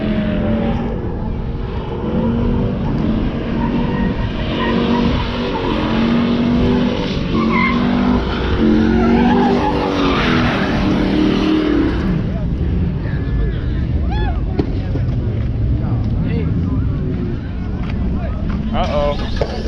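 A V8-swapped Kia does a long burnout at a car meet, engine roaring steadily with tires squealing and skidding, while voices shout and talk throughout.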